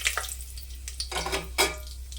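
Whole cinnamon, cloves and cardamom crackle in hot oil and ghee in a biryani pot, with soft sizzling and a few spoon scrapes and taps close by, quietly and without talk.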